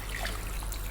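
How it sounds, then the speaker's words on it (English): Water trickles steadily from a container into a pot holding lamb shanks, a continuous soft pouring with no voices. "Then I'm going to add water."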